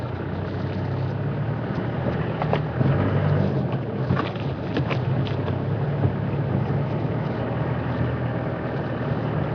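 Strong wind buffeting the microphone in a steady, loud roar with gusty swells, and no voices over the constant rushing.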